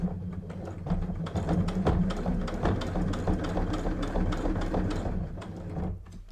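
A sewing machine stitches through thick layered fabric, a steady close mechanical whirr with rapid needle chatter, running continuously for several seconds before slowing at the end.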